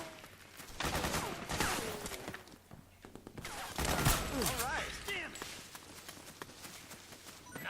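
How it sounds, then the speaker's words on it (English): Sustained suppressing gunfire in the video game Metal Gear Solid 4: Guns of the Patriots, dense bursts of shots and impacts rolling over several seconds amid battlefield noise, with voices talking over it. "Suppressing fire."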